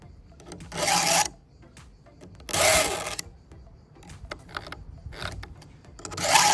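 A file is drawn across the chain teeth of a VEVOR mini pole saw in three or four separate rasping strokes, close and fairly loud, with quieter scraping between them.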